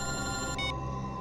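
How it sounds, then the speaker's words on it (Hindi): A telephone rings in a Hindi TV crime drama, a short steady electronic tone that carries clearly for just over a second before cutting off. "एसीपी साहब का फोन।"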